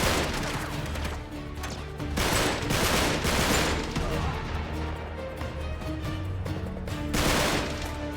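Sustained gunfire behind the player in Uncharted 3, with loud repeated bursts and automatic fire throughout, punctuated by sharp impacts and crashes, near and continuous.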